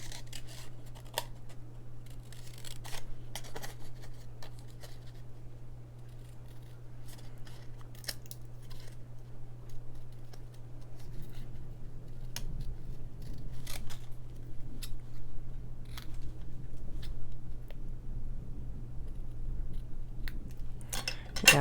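Scissors snip paper for a handmade card, with sparse, faint clicks and cuts spread over a steady low hum, close by and quiet.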